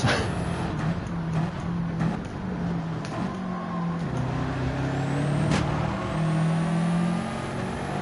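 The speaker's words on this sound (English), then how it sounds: "Heard somebody braking hard." A car brakes hard in Gran Turismo 7 while racing engines drone in shifting tones, with a brief hiss and thuds over a continuous, busy mechanical backdrop.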